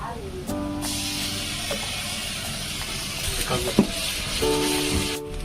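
Ginger garlic paste frying in a pan for chicken biryani gives a steady, broad hiss that continues throughout, with a background tone running alongside it.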